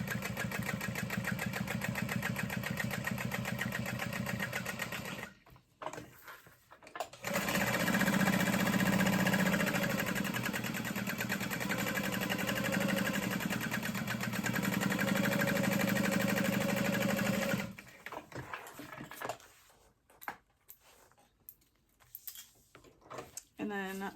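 A sewing machine stitching a backpack pocket runs in long steady bursts, a close mechanical whir that stops and restarts with brief pauses, then gives way to quieter handling noises at the end.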